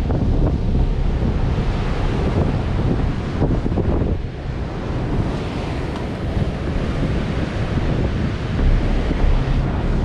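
Heavy surf from Hurricane Nicole's storm surge pounds a pier in a six-to-eight-foot swell, a loud, continuous roar of breaking waves blended with strong buffeting wind on the microphone and no voices.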